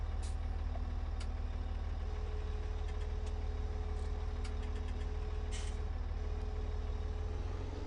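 Massey Ferguson tractor engine in the Farming Simulator 2017 video game, a steady low idling drone with faint hum tones and occasional short clicks and hisses on top.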